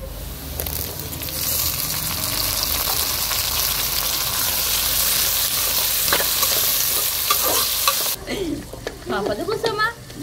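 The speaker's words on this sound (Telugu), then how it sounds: "ఇంక ఇప్పుడైతే టమాటా పండ్లు వేసుకుందామండి." Tomatoes go into onions, ginger and garlic frying in oil for egg keema, with a loud, steady sizzle and stirring scrapes throughout; the frying drops away near the end as children's voices take over.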